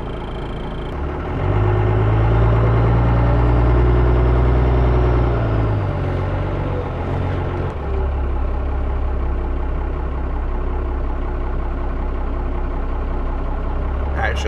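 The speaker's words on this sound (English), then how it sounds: "we got a vehicle coming" A 1997 Dodge Ram 3500 Club Cab dually pickup is heard as a loud, rumbling nearby engine that swells for several seconds, then shifts to a steadier, lower drone, with faint talk over it.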